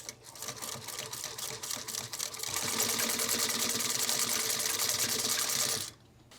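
A sewing machine stitches a daisy chain on a 30L ultralight backpack, slow needle thumps speeding into a rapid, even rattle before stopping abruptly near the end.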